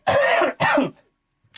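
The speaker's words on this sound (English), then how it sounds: "why am I coughing so much?" A person nearby gives two harsh, loud coughs in quick succession, the second ending in a throaty clearing, followed by silence.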